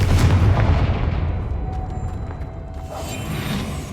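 A Confringo blasting spell goes off in Hogwarts Legacy: a loud, booming, artillery-like burst that fades into a rumble, then a whooshing swell.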